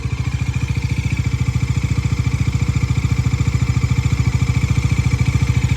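A Bajaj Dominar 400cc motorcycle engine idles close by with a steady, rapid low thump, holding an even rhythm throughout with no other sounds.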